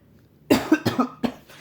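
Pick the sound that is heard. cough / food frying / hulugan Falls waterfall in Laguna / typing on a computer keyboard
cough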